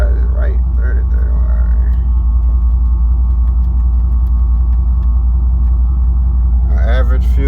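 A Monte Carlo converted into a truck pulls away, its engine laying down a steady, loud low rumble, with brief voices at the start and end.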